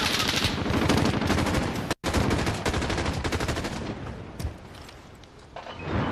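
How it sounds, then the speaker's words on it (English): Dense, loud rapid-fire gunfire in Call of Duty: Modern Warfare on the Gunfight map Pine, continuous automatic bursts with one sharp cut-off gap, tapering slightly toward the end. "He's shooting at me."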